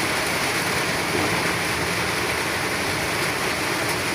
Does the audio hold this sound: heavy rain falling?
yes